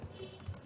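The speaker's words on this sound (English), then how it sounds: "what I need to type now is localhost" Quick, light keystrokes on a computer keyboard as a web address is typed: a short flurry of soft clicks, close and quiet, with no talk.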